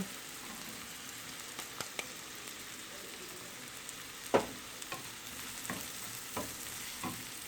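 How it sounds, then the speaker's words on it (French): Onions and red bell pepper frying in a pan, a soft steady sizzle at low level with a few sharp scrapes and taps of a utensil stirring, one louder clack midway. "J'ajoute ensuite mes oignons. Avec le poivron rouge."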